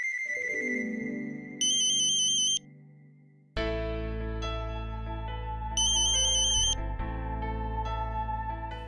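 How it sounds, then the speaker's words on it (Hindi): A telephone ringtone plays twice: a bright electronic melody with repeating tones, first alone and then over a swelling background music score, loud and close. "इतनी इंपॉर्टेंट बात चल रही है और बीच में फोन बज रहा है।"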